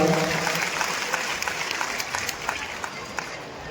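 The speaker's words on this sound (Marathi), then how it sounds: "सर्वांनी टाळ्या वाजवून स्वागत करावं." Continuous applause from a crowd at a welcome ceremony during a religious gathering in Umred, steady and full, fading slightly toward the end.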